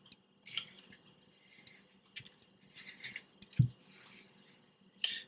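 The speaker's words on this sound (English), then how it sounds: "Go ahead and start giving that a nice little stir." A spoon stirs wet oat-and-flour dough for homemade dog treats, giving soft, sticky squelches and light scraping in an irregular rhythm close by, with one dull knock midway.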